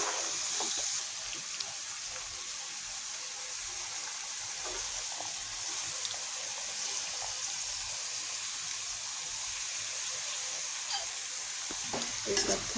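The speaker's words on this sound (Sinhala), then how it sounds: "කැරට් එකයි බිත්තර ටිකයි චිකන් ටිකයි කුනිසෝ ටිකයි ඒ දාගත්ත සීරම වල ටික අපි දැන් මික්ස් කරගන්න ඕනේ" A kottu mix of carrot, egg, chicken and dried shrimp is stirred and tossed in a hot pan, giving a steady close sizzle with scraping and clinks and no talking.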